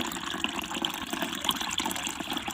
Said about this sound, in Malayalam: ഇതിലോട്ട് ഞാൻ മൂന്നിരട്ടി വെള്ളം ചേർത്ത് കൊടുത്തിട്ടുണ്ട്